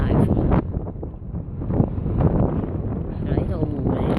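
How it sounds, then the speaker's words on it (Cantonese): Strong wind at Lake Ashi in Hakone buffets the microphone in loud, rough gusts, while a person talks over it throughout. "大家聽到啲風嘅聲好大風"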